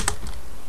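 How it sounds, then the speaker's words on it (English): Quick keystrokes on a computer keyboard as a Minecraft server chat command is entered, a short burst of clicks up front and then fading to quiet room noise. "So now I'm gonna type slash warp"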